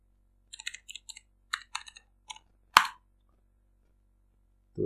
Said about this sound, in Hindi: एक हाथ से टाइपिंग करने में दिक्कत भी बहुत आती है।